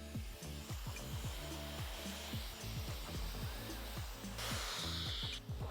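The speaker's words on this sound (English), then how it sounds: "So I'm gonna blow dry it that way on this side." A hair dryer blow-drying fine hair flat to one side runs as a steady close whir, with a brushier rush of air swelling near the end.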